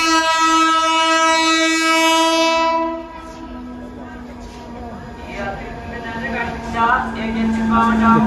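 A train horn blares loud and steady at a crowded railway station on a route to Kolkata, then cuts off into station crowd noise and rumble with voices talking in the background.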